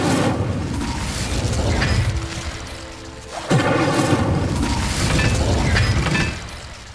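Incendio fire spell cast in Hogwarts Legacy, a loud whooshing burst of flame with a sharp crackling onset, then a second roaring blast midway, with clinking debris and no speech.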